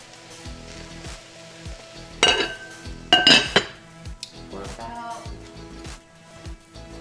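A lid goes onto a pot of simmering sweet potato stew with cabbage and onion. Two bright metallic clanks and rattles sound up close over a low bubbling sizzle, followed by softer clinks.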